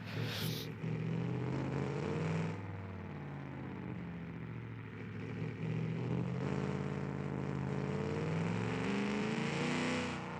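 AI-driven race cars from a 1980 season race in the BeamNG video game, engines droning and revving steadily with shifting pitch throughout, a continuous close motor roar.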